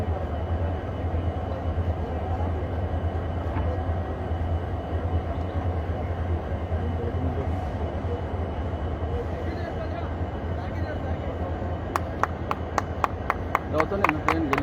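A special Valankanni Feast train pulls out of Vasco station with a steady, heavy rolling rumble throughout. People talk nearby over the noise, and a quick run of sharp claps or clacks rises near the end.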